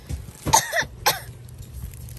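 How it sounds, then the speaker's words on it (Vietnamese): A person coughs twice in quick succession, close and fairly loud, during a pause in a plant sales livestream, with quiet room tone between. "Rồi, ho luôn rồi."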